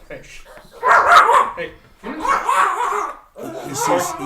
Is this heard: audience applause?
no